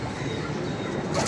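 A pigeon coos softly amid a steady hiss of background noise, one short, muffled call with no one speaking.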